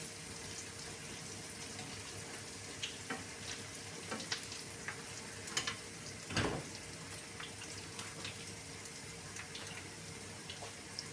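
Onion frying in a pan with a little water added, a steady soft sizzle running throughout with scattered crackles and one sharper pop midway.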